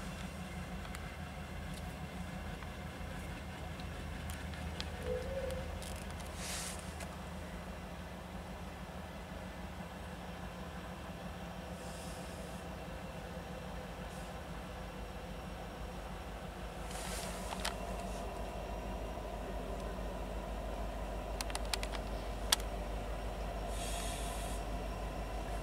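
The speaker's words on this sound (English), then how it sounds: "It's an old engine there." An old EF640B locomotive idles with a steady low rumble and hum, continuous and moderately distant, with occasional faint metallic squeals and clanks above it.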